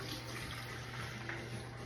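A drink being poured into a glass, a faint steady liquid trickle lasting a couple of seconds, quiet and close.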